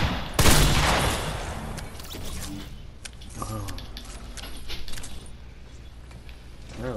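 Video game gunfire from a firefight in a basement: a loud burst of rapid shots near the start, then scattered bursts and mechanical clatter.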